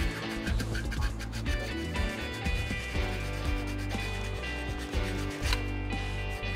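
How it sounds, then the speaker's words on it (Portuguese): A plastic toy figure piece is hand-sanded with 320-grit sandpaper, giving close, steady rasping rubs in short back-and-forth strokes with a few sharper scrapes, no talk. "dar uma lixada geral em toda a peça com uma lixa número 320"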